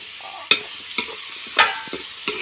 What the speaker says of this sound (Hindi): इधर अच्छे से सब चीज़ डाल चुकी हूँ, मसाला, नमक, मिर्च, सब चीज़ हल्दी। तो भूंज रही हूँ उसे अच्छे से।